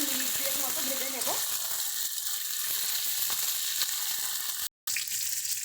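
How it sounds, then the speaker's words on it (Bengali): Flat beans frying in oil in a pan, a constant close sizzle with a few faint clicks and scrapes, continuing steadily apart from a brief dropout near the end. "শিমটাকে একটু হালকা করে ভালো মতো মিনিট দুয়ের মতো ভেজে নেব।"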